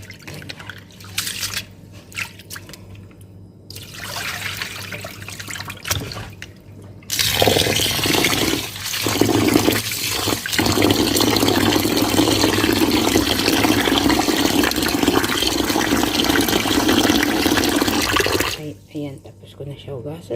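Rice being washed and rinsed in water for a Middle Eastern rice dish, a steady rushing of running water with splashing and dripping that holds for about eleven seconds, framed by quieter handling sounds before and after.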